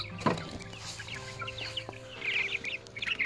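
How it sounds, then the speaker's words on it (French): Sixteen chicks in a mobile coop clucking softly nearby, with scattered short chirpy calls and a brief louder squawk near the start, no talking. "Donc j'ai 16 poussins dans ce poulailler mobile"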